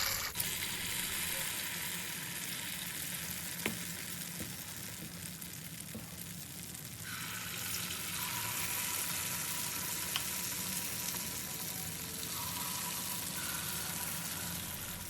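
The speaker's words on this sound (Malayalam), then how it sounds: "മാവ് ഇതിൻ്റെ അകത്തോട്ട് ഫുള്ളായിട്ട് ഒഴിച്ച് കൊടുക്കുക." Unniyappam batter fries in hot oil over a high flame in an appam pan, a continuous close sizzle and crackle with a few small clicks and a brief shift in texture partway through.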